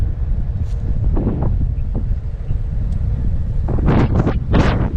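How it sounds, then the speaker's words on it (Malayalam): Strong wind buffets the microphone of someone cycling downhill in loud, continuous rumbling gusts, with a few sharper bursts near the end. "പെട്ടെന്ന് നല്ല കാറ്റ് ഇവിടെ നിന്നൊക്കെ ഇങ്ങനെ അടിക്കാനടുത്തൊക്കെ ബാലൻസ് പോകും"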